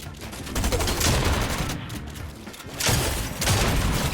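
Dense, continuous Fortnite gunfire fills the whole stretch, with rapid overlapping shots and booms, loud and close, briefly easing in the middle before another heavy volley.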